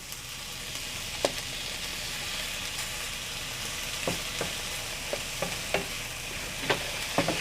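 Finely chopped chorizo and garlic cooking in a pan for seafood paella: a constant bright sizzle up close, broken by intermittent scraping taps of a spatula, no voices.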